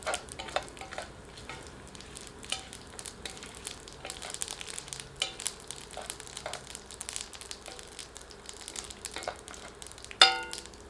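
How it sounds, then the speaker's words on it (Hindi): Cumin, whole coriander and chillies frying gently on low heat make a soft, quiet crackle with scattered light taps and spoon scrapes, ending in one louder clink near the close, with no voices. "अब सबको 1 मिनट लो हीट पर फ्राई करते हैं।"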